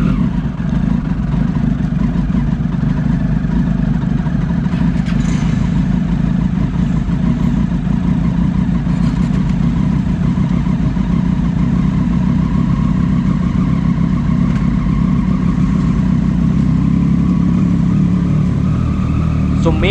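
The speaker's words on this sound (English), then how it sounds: "let me introduce my bike, the Triumph Daytona 675. Which is a super bike. So it's time to start our machine up." A Triumph Daytona 675 superbike engine runs steadily and loud throughout, with a dense low rumble and some mid-range rises suggesting revs climbing; there is no clear starter burst.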